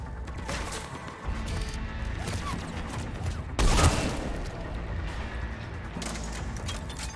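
A harpoon gun firing in the video game Mass Effect 3 amid battle noise, dense rattling gunfire and impacts with one loud heavy crashing shot about halfway through.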